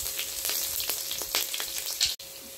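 Slit green chilies sizzle in hot mustard oil with mustard seeds, a steady crackling hiss with sharp pops, then a brief sudden drop near the end.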